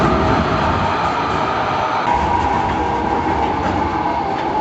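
A tram rolls past close to the sidewalk on a street in Halle, Germany, its steady rumble and faint rail clatter loud and continuous throughout, with no talking.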